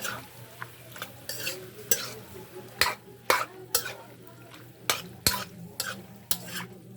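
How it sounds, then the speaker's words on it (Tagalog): Liver being stirred in a pan after a splash of fish sauce, with repeated sharp scraping and clacking strokes over a soft background sizzle, close and fairly loud, no talking. "Patis para sa liver. I-mix natin."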